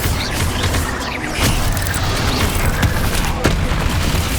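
A Bombarda explosion spell in Hogwarts Legacy, heard as a loud boom followed by rumbling blasts and sharp impacts in quick succession amid ongoing combat noise.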